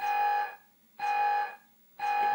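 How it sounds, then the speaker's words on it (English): A loud electronic alarm beeps in steady pulses, one long tone each second, three in a row with quiet gaps between. "every second it makes the alarm sound, just like in the show"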